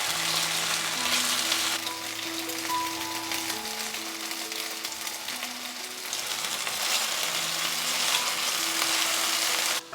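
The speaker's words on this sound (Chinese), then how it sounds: "煎的时候可以多翻一下面" Cornstarch-coated chicken breast fries in a little oil in a pan, a steady close sizzle running throughout with faint crackles and occasional scrapes from turning; no voices are heard.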